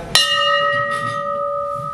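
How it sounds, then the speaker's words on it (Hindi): A single loud strike of a large temple bell at Panch Mandir, its deep metallic tone ringing on and slowly fading, with faint background murmur. "यहाँ पर सबसे बड़ा घंटी मंदिर का"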